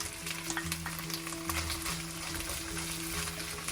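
Chopped garlic and chili sizzle steadily in a hot pan for chicken chow mein, a dense, even frying hiss with faint tonal background sound underneath.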